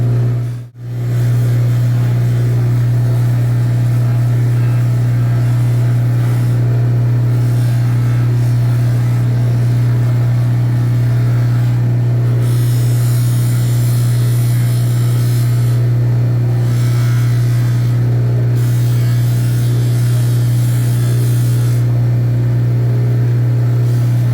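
A soft lapidary wheel polishing a large peridot gemstone gives off a steady, continuous low motor hum that holds evenly throughout, with no talking.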